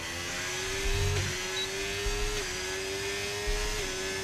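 An F1 race car engine in F1 25 at the Canada race, a steady high-pitched whine held near constant with slight dips as the car shifts up. It drones loud and close throughout with no talk.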